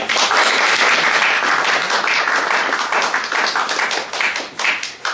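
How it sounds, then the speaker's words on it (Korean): Sustained, loud audience applause welcoming a lecturer onstage at a talk-concert event, dense clapping filling the room steadily before tapering slightly toward the end. "우리 김민환 강사님을 큰 박수로 모시겠습니다."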